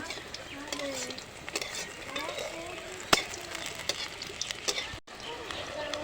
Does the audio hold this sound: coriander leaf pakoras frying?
yes